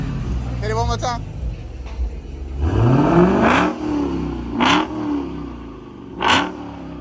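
Dodge Charger Hellcat Redeye with its mid muffler deleted, revving hard nearby in a few loud bursts that rise and fall, with people talking between the pulls.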